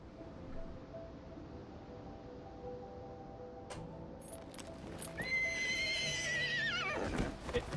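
A horse in the video game Ashes of Creation gives a loud, rising whinny that arcs high and then drops off, over steady clip-clopping hooves and low ambient game sound, with no talking.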